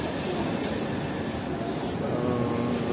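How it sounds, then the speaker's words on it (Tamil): A local EMU commuter train pulls into a station, a loud, continuous rumble and rolling rail noise with faint high wheel squeal throughout. "ஸோ ட்ரெயின் வந்துடுச்சு."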